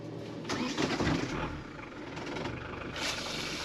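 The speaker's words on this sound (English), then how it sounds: "This time the hose worked, and the engine is sucking water like it should." A sailboat's engine cranks and catches, then settles into a steady rumbling run close by, drawing cooling water through its hose, with no voices.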